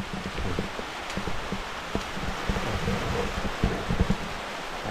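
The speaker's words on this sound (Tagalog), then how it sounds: "Ayan na po ang ulan." Steady rain falls on a farm, a dense continuous hiss with scattered low patters and thumps throughout, fairly loud and without talk.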